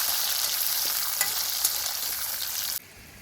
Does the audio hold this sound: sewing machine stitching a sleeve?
no